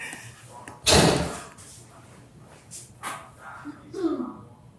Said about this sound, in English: closed the door